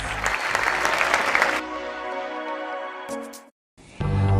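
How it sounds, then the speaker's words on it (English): Applause for Mr. Delos Reyes at an evening sustainable tourism event: loud clapping for about a second and a half, then it breaks off into sustained music, a brief silence, and another sound entering. "Let us give him a round of applause"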